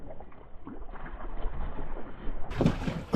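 A fishing boat idles on the Mississippi River, its low engine rumble and water wash running steadily, with a brighter burst of splashing and motor noise near the end; no one speaks.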